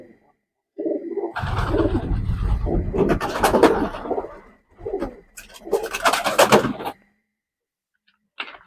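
Teddy pigeons at a pigeon farm in West Bengal coo in bursts, with a fuller stretch in the middle and another later, fairly close and separated by quiet gaps.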